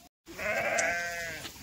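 A single close sheep gives one clear, wavering bleat lasting just over a second outdoors among a running flock, with faint background noise and no talking.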